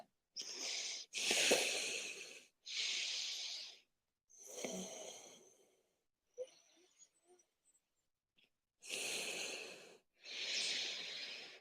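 Slow, forceful yoga breaths come in and out through the nose in a seated practice, about six loud rasping strokes with brief gaps between, close to the mic, no talk.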